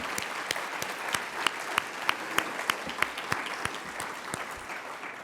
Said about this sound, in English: So please join me in a round of applause for our dedicated colleagues.